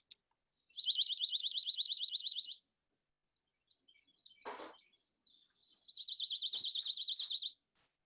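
Pine warbler song: two clear, even musical trills, each about two seconds long, separated by a pause with a brief rustle or knock, heard alone and fairly close.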